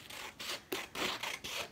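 Scissors snip through long strips of colored paper in several quick cuts, each a crisp rasping slice with brief pauses between, close and fairly quiet with no talk.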